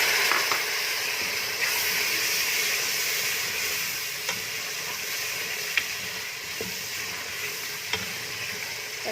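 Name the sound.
masala frying with added water for chana dal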